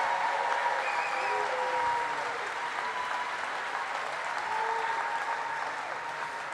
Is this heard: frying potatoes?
no